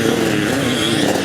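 A Honda motorcycle roars at the start of a hill climb run at Gunstock. The engine sound is loud, steady and buzzing, close to the microphone.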